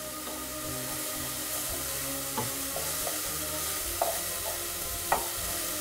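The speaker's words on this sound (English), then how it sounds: "So I'm going to literally just saute the onion until it softens." Onions sauté in a little olive oil in a pan, giving a steady, close sizzle throughout, with a few soft stirring knocks from a utensil.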